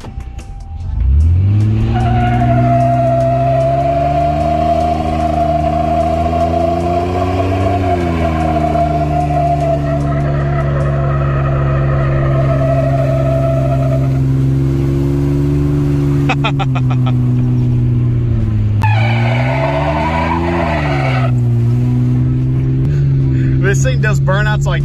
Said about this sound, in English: I'm gonna get up to about 70, 75 and see how bad the drone noise is